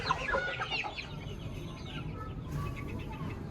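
Black hen clucking close by, preparing to sit on eggs, a string of short clucks over steady background farmyard noise.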